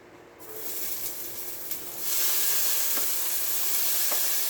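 Sausage fried rice ingredients sizzle and hiss in a hot frying pan, a steady close frying noise that grows louder partway through, with a few faint clinks of stirring.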